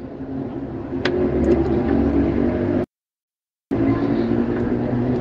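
A Volvo-powered Marco Polo Paradiso New G7 coach at the Uberlândia bus station, its engine idling with a steady low rumble that cuts out briefly before resuming, with faint station noise above.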